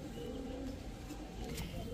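Faint, soft cooing from a pair of racing pigeons, low murmuring calls against a quiet room background.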